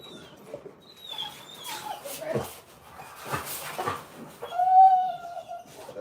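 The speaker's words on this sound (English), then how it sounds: "when it's feeding time, dogs make noise." Dogs whine and yelp at feeding time in kennels, with several high drawn-out whimpers scattered across the clip, moderately close, over low background noise and faint voices.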